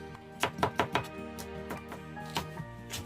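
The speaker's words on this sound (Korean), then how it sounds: "무생채에 들어갈 풋고추 2개 채 썰겠습니다." A knife slices green chili peppers into thin strips on a cutting board, four quick close taps in a row and then a few softer cuts, over quiet background music.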